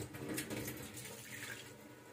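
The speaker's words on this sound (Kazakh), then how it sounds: "Үстіне көз мөлшеріменен су құятын боламыз." Water pours steadily into a pot holding three small teacups of rice, a continuous splashing, gurgling stream close by, with no voices.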